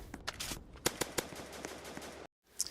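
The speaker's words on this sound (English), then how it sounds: "so I can just finish them off with my shotgun" Rapid gunfire from a shotgun blasting zombies in the video game Zombie Uprising, a string of sharp close shots with an uneven rhythm, then a brief silence and one last burst.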